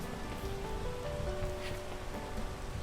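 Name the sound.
rain falling in a video game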